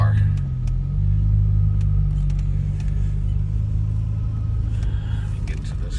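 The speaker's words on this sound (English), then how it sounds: "and then I slowly start driving the car" A BMW M6 with the S85 engine rolls off slowly, its steady low engine rumble and idle drone continuous and close throughout, with faint higher clicks and road noise above.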